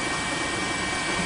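A news helicopter flies over a tsunami sweeping the Sendai area in Miyagi Prefecture, its rotor and engine a steady, loud, unbroken roar.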